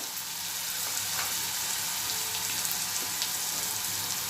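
Onions sautéing in a pan, a steady close sizzle with soft scraping and stirring, continuous and fairly loud with no voices.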